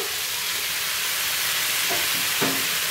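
Potatoes and drumsticks fry in spices with a loud, steady, broadband sizzle that fills the clip, and two soft thuds come late as tomato goes into the pan.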